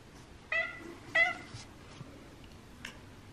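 A cat meows twice in a house, two short clear calls close by, followed by a fainter third cry, with no talking.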